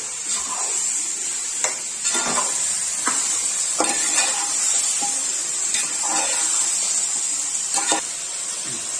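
Chicken and onions frying in hot oil hiss loudly and steadily while a spoon stirs them through, giving repeated scraping strokes over the sizzle.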